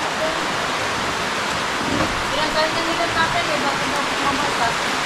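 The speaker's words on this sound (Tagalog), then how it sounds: "Ayan, lakas ng ulan." Heavy typhoon rain pours steadily as a dense, continuous hiss, with people talking over it now and then.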